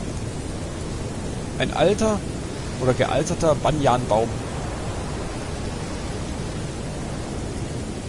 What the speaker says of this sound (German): Wow, es regnet schon ziemlich stark.